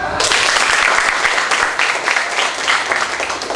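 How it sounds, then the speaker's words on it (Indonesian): Audience of school student council members breaks into brisk, loud clapping at a state defense briefing, a close, dense burst that starts abruptly and holds steady. "Tepuk tangan dong."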